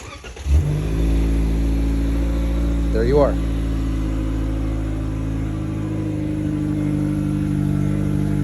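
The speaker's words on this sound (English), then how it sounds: "You hold that lock button, and soon this vehicle will start." A 2021 Toyota Corolla Apex Edition starts remotely, its engine catching with a thump and settling into a steady low idle rumble that continues throughout, with a person talking briefly over it.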